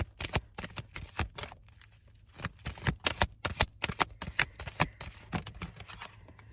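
Oracle cards being shuffled by hand close up, a rapid run of crisp riffling bursts with a short pause partway through, no voice.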